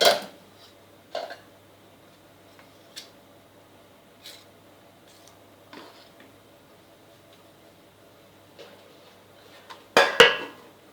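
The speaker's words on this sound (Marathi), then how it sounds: "मी 2 मिनटं आता मी हे झाकून ठेवते." A lid set onto a pan of chakli flour dough over a low gas flame, giving a few light metallic clinks and taps spread out in a quiet kitchen, with a louder clatter near the end.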